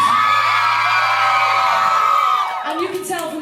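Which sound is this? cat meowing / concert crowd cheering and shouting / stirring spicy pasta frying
concert crowd cheering and shouting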